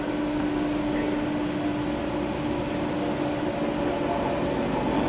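A Napier NA297/NA357 turbocharger turbine spins at 5000 RPM on a dynamic balancing machine, a loud, steady mechanical whine with a constant tonal hum and no variation or talking.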